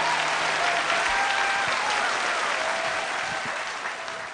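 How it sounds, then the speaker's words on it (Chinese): A television singing-contest audience gives sustained, dense applause for a contestant after a song, loud and even at first, then slowly fading. "掌声鼓励"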